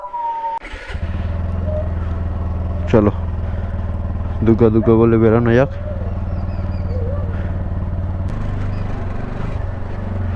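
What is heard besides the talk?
motorcycle starting and riding off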